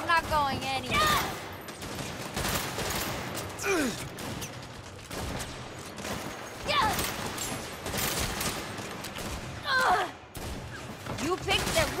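Gunfire erupts in a Saints Row firefight, with sniper shots among sharp cracks and bursts in repeated clusters, mixed with mechanical clatter and whooshing effects, loud and close.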